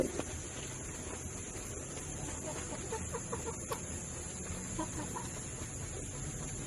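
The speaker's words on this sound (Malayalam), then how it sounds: "കോഴികൾ" Several chickens cluck softly in a busy outdoor farmyard in Edakkara, Malappuram district, scattered calls over a steady background hum with no talking.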